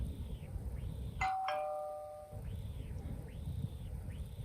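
An iPhone 15 Pro doorbell ringtone, a two-tone electronic chime, a high ding followed by a lower dong ringing out, heard once over a low background hum.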